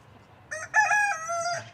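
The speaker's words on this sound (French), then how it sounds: "Qu'est-ce qu'on reproche aux coqs? Eh ben, qui font du bruit." A rooster crows once, close and clear, in a roadside French countryside setting opposite a busy main road, the harmonic call rising and holding for about a second over faint background hum.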